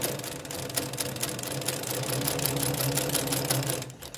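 A sewing machine in an upholstery workshop stitches a zipper, its rapid even needle chatter running continuously at close range before stopping just at the end.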